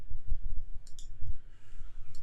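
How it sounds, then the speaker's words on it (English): Computer mouse clicking during work on a digital film scanner's files, a few sharp, light clicks in close succession over a low background hum. "Right mouse click."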